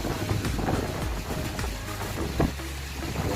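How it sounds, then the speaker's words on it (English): Strong northerly wind on a beach in Hurghada, a loud continuous rumbling roar buffeting the microphone with gusty low-end bursts and no talking. "Strong northerly wind brings the clouds."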